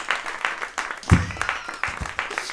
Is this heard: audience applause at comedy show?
yes